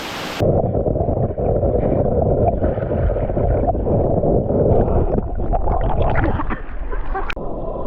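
Ton Pliu waterfall at Rattaphum, Thailand, roars as a loud, steady broadband rush of falling water, constant and close throughout after a brief sharp start.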